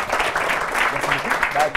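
A studio audience on a French TV show claps for a guest, a brief, steady burst of applause with a few voices mixed in underneath.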